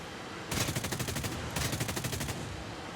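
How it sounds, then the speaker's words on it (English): Machine guns on a SAAB 21 fighter plane fire in War Thunder, two sustained rapid bursts separated by a short pause, loud and steady over engine drone. "We've got 800 rounds for the machine guns"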